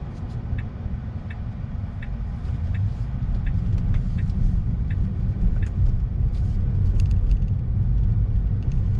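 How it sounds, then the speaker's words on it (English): A Tesla drives through road traffic on a Colorado-to-Kansas road trip, with a steady low rumble of road and tyre noise from inside the car and faint intermittent ticking, growing slightly louder partway through. "Why is there so much traffic wherever I am?"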